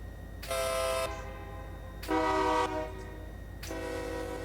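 A locomotive air horn in the Run8 Train Simulator game sounds three separate steady blasts, the last one longer and trailing off, clear and prominent with no talking.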